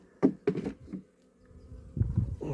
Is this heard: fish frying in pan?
no